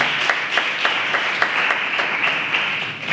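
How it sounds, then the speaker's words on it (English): A small live audience at a podcast recording gives a steady round of applause, with close, distinct claps over a continuous wash of clapping and no talking. "Round of applause."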